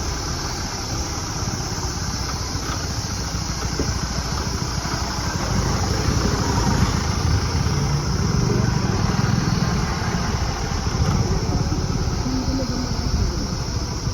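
Steady rumbling engine noise of vehicles and motorbikes moving along a rough rural road in Baglung, Nepal, with a continuous low drone and faint voices underneath.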